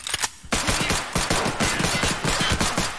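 Rapid bursts of M4 rifle fire from Escape From Tarkov, loud and close, with a brief pause before a dense run of sharp repeated shots.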